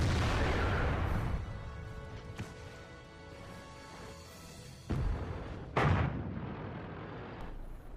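Tank cannon fire in World of Tanks from an IS-6 heavy tank on the Siegfried Line map, a heavy boom at the start that fades out, then two more sharp shots later with rumbling decay.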